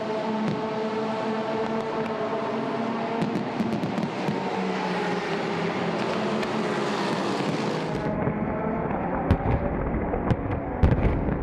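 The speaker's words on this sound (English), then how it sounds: "At the stroke of midnight, the traditional firework display is on." Midnight fireworks at the Dubai 24 Hour endurance race crackle and pop in dense, continuous bursts, loud and steady, mixed with race cars and other engine noise in the background.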